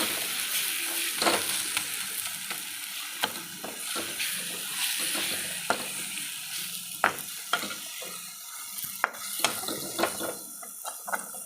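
Fish curry ingredients such as ginger, pepper and garlic stir-fried in a heavy pan: continuous frying sizzle punctuated by repeated scraping and clacking of a spoon against the pan, close and fairly loud.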